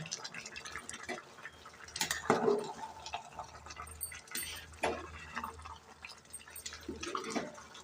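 Rice pulao made with ration rice simmers in a pot, with soft bubbling and gurgling, faint and close, and occasional light clinks.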